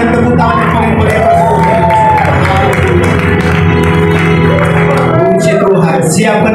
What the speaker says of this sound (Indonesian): Sekali lagi boleh berikan tepuk tangan yang paling meriah.